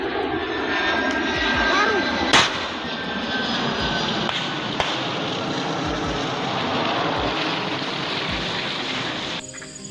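A military transport airplane's engine drones steadily and loudly over Yahukimo, a continuous roar that persists under someone speaking throughout.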